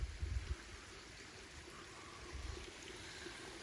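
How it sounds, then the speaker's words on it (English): A waterfall spilling into a stream far below, heard as a faint, continuous rushing wash with a little low rumble near the start. "This here is the final waterfall. It leads down into that stream way down there."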